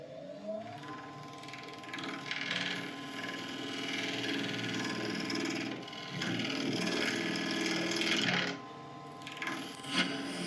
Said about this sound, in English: Lid's on the lathe. I'm just going to quickly flatten off this top